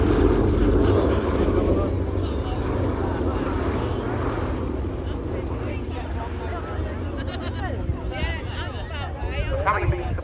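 A B-17 Flying Fortress displays at the Cosford Airshow, its four piston engines giving a steady, distant propeller drone under loud public-address commentary and crowd noise.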